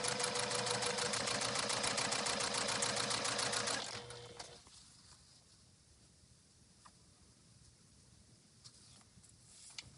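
A sewing machine stitches quilt corners in a fast, steady run for about four seconds, loud and close, then stops, leaving quiet room tone with a few faint clicks.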